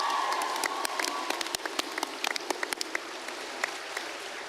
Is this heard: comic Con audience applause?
yes